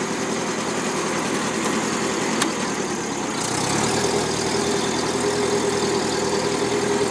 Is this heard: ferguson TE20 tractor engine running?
yes